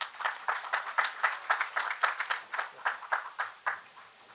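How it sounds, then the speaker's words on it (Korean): Scattered audience clapping at an academic symposium on temple food, a thin run of distinct claps at an irregular rhythm from a small crowd, moderately faint and without talk. "큰 박수를 부탁드리겠습니다."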